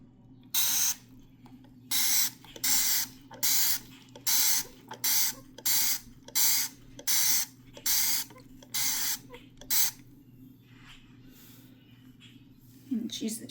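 Dawn spray cleaner being sprayed on flea market antiques, a rapid series of about a dozen sharp, hissing spray bursts in steady rhythm, close and loud, followed by a quieter stretch.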